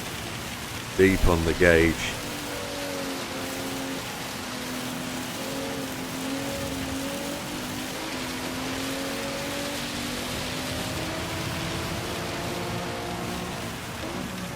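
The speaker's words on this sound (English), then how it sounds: "We're really into the rough rain." Heavy rain pours steadily over a race at Tsukuba in Gran Turismo 7, with an Alfa 155 on track, a dense continuous hiss with an engine drone underneath, after a brief voice near the start.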